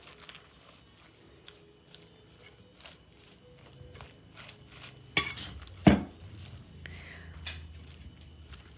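Reuben salad with sauerkraut and dressing gets a quick stir in a bowl, with soft scrapes and light clinks of a utensil, plus a couple of sharper knocks against the bowl, all fairly quiet and close.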